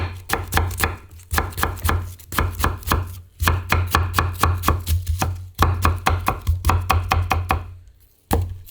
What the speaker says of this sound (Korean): 오늘의 주인공 사과를 곱게 편을 일단 쓰세요. 그래서 이것도 곱게 채 써세요.